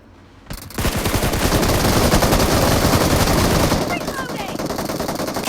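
PUBG Mobile team deathmatch gunfire: a sudden, loud, sustained automatic burst of rapid shots. It eases into lighter continued firing, with game sound effects and a voice talking over the action.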